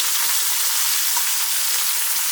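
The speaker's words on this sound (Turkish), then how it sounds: "salçanın kokusu çıkana kadar kavuruyorum." Onions with tomato paste, black pepper, chili flakes, thyme and cumin sautéing in a pan, a dense, loud, even sizzle heard close and without pause.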